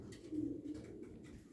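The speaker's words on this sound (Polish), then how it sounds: "Pokażemy jeszcze ptaszki na dole, które pojadą z nami." Pigeons in a loft give a soft, low cooing call, faint and close, over a quiet indoor background with no talking.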